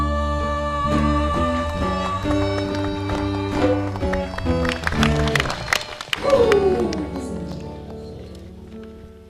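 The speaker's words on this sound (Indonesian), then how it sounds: "kita beri tepuk tangan sekali lagi" An audience applauds after a song performed by a local music group at a community empowerment event in Jepara, the clapping mixed with lingering instrumental tones and sustained musical notes.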